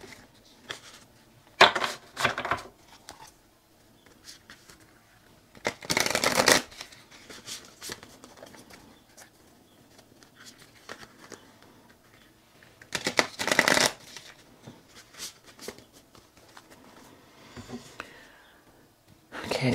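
Tarot cards being shuffled by hand in several separate bursts of riffling and cascading, close and fairly loud, with quiet handling and gaps between bursts.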